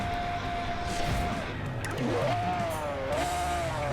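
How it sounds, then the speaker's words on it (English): A Bugatti engine in a Forza racing game hums steadily, its pitch sliding down, then rising again as it revs up, with a smooth purring tone throughout. "listen to the purr of that car"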